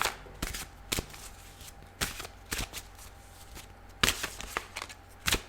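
A large tarot deck is shuffled slowly by hand, producing sharp card riffles and slaps spaced irregularly, close and fairly quiet, with no talking.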